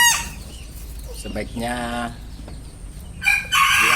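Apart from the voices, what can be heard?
chickens clucking and crowing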